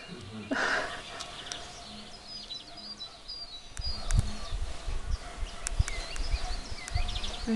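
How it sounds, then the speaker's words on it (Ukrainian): Small birds chirp and tweet faintly in the distance outside a window in Staryi Skalat, Ukraine, in early April, joined midway by close rustling and handling noises. "Чути пташки співають."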